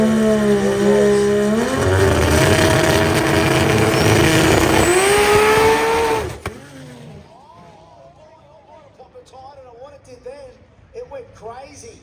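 Race car launching hard at an imports drag race, with a loud revving engine roar for about six seconds that cuts off abruptly, followed by quieter crowd and commentary talk.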